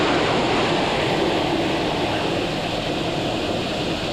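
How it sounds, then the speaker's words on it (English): Bridal Veil Falls at Niagara thunders from up close at its base, a dense, steady roar of crashing water that fills the whole clip without pause, with no voices. "We're at the bottom of Bridal Veil Falls."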